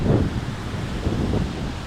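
Strong wind gusting across a Goa beach, a steady low roar buffeting the microphone with a faint wash of surf beneath, no voices.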